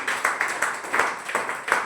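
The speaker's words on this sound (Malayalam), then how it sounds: "കൈയടിച്ചോട്ടാ" Hands clap in a seminar hall during a team-building class on passive income. The claps are uneven and spread across the room, a moderate patter of sharp hits for about two seconds with no speech.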